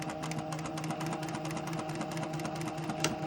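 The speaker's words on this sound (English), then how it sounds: "Do a top stitch, sew through 3 layers." Sewing machine top-stitching pleats through three layers of fabric, a fast even mechanical whir with rapid needle ticks running continuously at close range.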